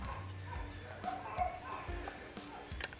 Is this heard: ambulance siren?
no